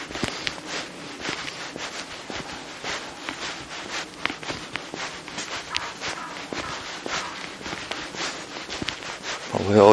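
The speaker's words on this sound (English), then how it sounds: "Probably all you can hear is my feet on the floor." Close footsteps crunch along at an even walking pace through Brookhouse and Slade Hooton villages in South Yorkshire, England, one step after another for the whole stretch.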